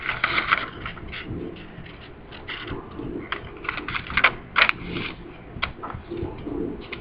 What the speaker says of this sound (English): you're going to take the top of the paper, fold it down